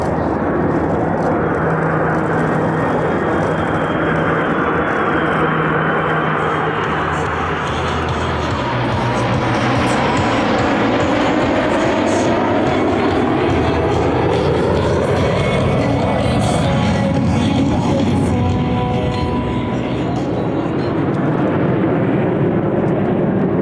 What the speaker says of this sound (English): The Hercules and Lightning IIs will now make their approach over the runway for good pass-in review.